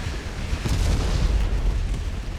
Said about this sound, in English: Managed to hit the battleship in the background, a massive explosion.